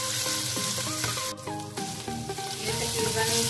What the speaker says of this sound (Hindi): ये मैंने इसमें चिकन का कीमा डाल दिया। अब तकरीबन इसे हम 6 से 7 मिनट तक पकाएंगे।